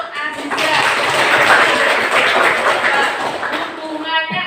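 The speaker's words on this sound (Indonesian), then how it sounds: "Beri aplaus untuk Aziza." A classroom bursts into applause for a student, a brief wash of many hands clapping for a few seconds, with voices running over and around it.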